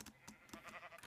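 Wild sheep bleating in Minecraft, a faint, brief wavering bleat against quiet game ambience, with no one talking.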